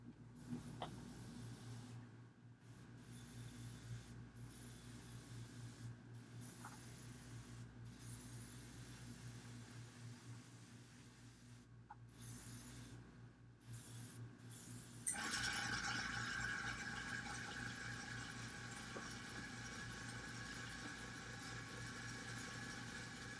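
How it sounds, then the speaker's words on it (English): Dark blue steel-blue paint sprayed onto a model with an airbrush, a quiet compressor hum broken by short hiss bursts, then a continuous louder spray hiss from about fifteen seconds on. "I'm going to spray this with dark blue right now."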